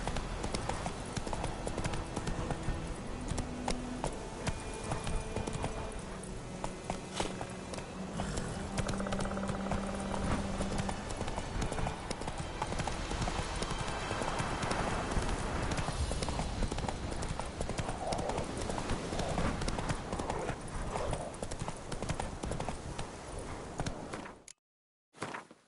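The horse's hooves clip-clop in a steady rhythm while riding in The Witcher 3, with game ambience underneath and a brief dropout near the end.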